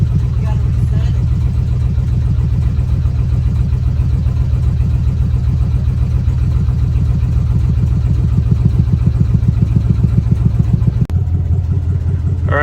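A car engine on its first start-up attempt after a reset runs loud and close with a steady, pulsing rumble, then changes abruptly to a lower, thinner drone near the end.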